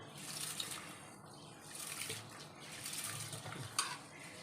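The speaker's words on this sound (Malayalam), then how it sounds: "നമുക്ക് അരിക്ക് വെള്ളം ഒഴിച്ച് കൊടുത്ത് നന്നായിട്ട് കഴുകിയെടുക്കാം" Ration rice washed by hand in water, with splashing, swishing and light trickling close by, rising and falling in a few bursts without talk.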